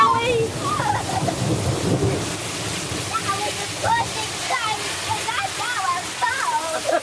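Steady rain pours outdoors during a thunderstorm, a constant broadband wash with no distinct thunderclap standing out, while a child and an adult talk and call out over it throughout.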